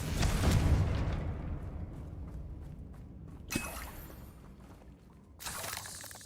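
A Confringo fire spell bursts into an explosion in Hogwarts Legacy, a loud booming blast up front that trails into rumbling, with a sharp crack midway and another burst near the end.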